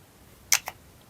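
A cologne spray bottle gives two short, close spritzes in quick succession, the first louder than the second, in an otherwise quiet room.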